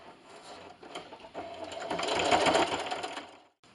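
A sewing machine runs a quick line of stitches through fabric for a carrot-shaped Easter treat bag, a soft whirring chatter that speeds up and grows louder before stopping abruptly.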